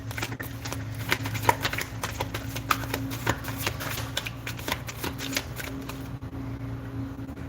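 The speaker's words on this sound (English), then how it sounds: "Let's use the tarot cards." Tarot cards shuffled by hand, a rapid series of soft riffling clicks and slaps repeating in irregular bursts over a low background hum, fairly quiet, no talk.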